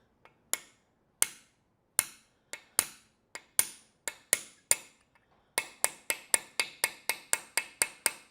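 Sharp metallic clicks and taps as a hammer valve bottoms out, sparse at first and then quickening into a rapid, regular ticking, close and crisp in a quiet room.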